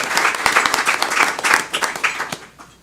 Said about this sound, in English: So let's give Jack a round of applause.